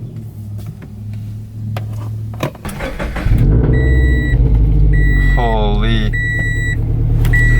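Subaru BRZ fitted with a Gruppe-S UEL header cranks and settles into a loud, deep idle, its low rumble steady up close with a few electronic chimes over it and a brief exclamation from a person nearby.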